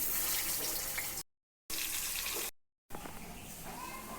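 Hands being washed under a running tap in a home kitchen: a steady close splash of flowing water, broken twice by short silent gaps before resuming.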